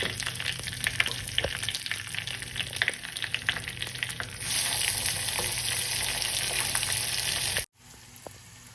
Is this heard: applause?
no